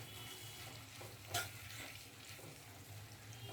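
Roasted gram flour being stirred into a capsicum and besan curry in a pan, a steady low scraping and soft sizzle with one sharper clink of the spoon midway, fairly quiet and without voices.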